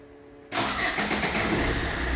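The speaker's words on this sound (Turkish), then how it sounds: "5 saniye bekledikten sonra marş emrini yerine getirdi" A 2010 Fiat Albea started remotely turns over and catches after a quiet moment, then settles into a steady, fairly loud idle heard close by with no voices.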